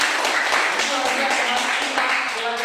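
Children in a classroom clapping together, a dense, loud run of rhythmic claps with overlapping young voices calling out beneath.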